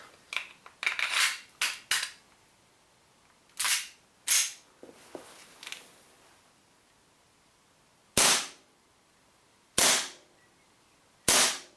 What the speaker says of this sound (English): First I'll fire the compact